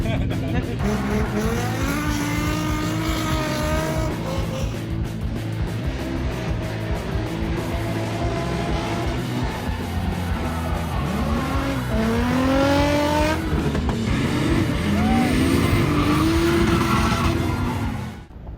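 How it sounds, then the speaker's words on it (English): Drift cars at Fuel Fest, a large car show in Southern California, rev and slide through runs with rising engine wails and tire squeal, loud and continuous, with people talking over the noise. "There's drifting where we were giving ride-alongs to people"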